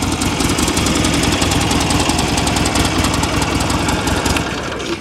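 Engine of a 2006 Buell Ulysses XB12X motorcycle running steadily close by: a loud, even, rapid rhythmic pulsing that holds for five seconds and eases off slightly at the end, with no voices.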